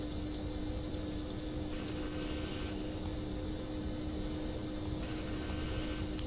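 Steady airliner jet engine drone in X-Plane 10 flight simulator during a climb from Los Angeles to Las Vegas, a continuous even roar with a faint tonal whine, no talking.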